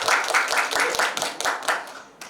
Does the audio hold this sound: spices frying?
no